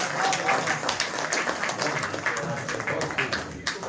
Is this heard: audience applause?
yes